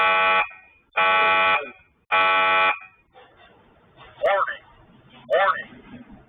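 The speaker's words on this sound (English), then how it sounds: "Agents triggered the alarm to deter the subjects." A marina security alarm blares in three loud, sustained tonal blasts, followed by a recorded voice warning over quieter background noise.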